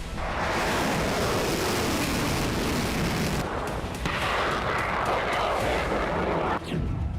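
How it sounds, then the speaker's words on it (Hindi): A heavy, sustained roaring blast fills the air in Kyiv during missile attacks, then a second loud rumbling burst follows, dense and continuous like distant explosions. "कीव के अलग अलग इलाकों से धमाके की आवाज सुनी गई है।"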